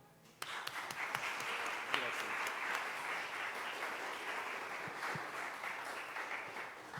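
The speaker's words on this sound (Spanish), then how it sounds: "Un aplauso." An audience at a book launch bursts into applause for an honoree. Dense clapping starts abruptly after a brief quiet moment and stays full and even to the end.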